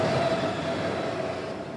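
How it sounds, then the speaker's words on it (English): A subway train rides along in a video game, a steady close rumble of rail cars with a faint high wheel whine running under it. No one speaks. "I'm on a subway, apparently."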